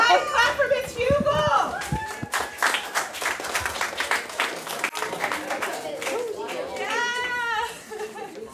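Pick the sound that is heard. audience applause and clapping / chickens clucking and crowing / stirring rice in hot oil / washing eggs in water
audience applause and clapping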